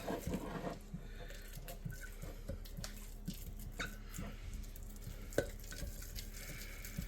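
Sourdough starter made with hard red wheat flour mixed in a container, a spoon stirring and scraping in quiet, repeated strokes with soft clicks against the sides.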